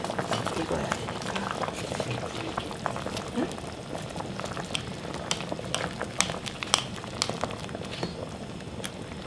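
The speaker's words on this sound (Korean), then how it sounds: "이렇게 해서 센 불에서 더 끓여" Korean braised soy sauce chicken with sweet potato and carrot boils over high heat in a pot, bubbling steadily with frequent small pops and crackles close by.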